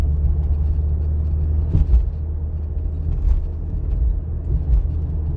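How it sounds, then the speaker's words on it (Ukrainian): A car drives along a city street at steady speed, its low engine rumble and tyre noise continuous and close, with a couple of slightly louder bumps along the way. "Трохи притормозили та їдемо по вулиці Київській."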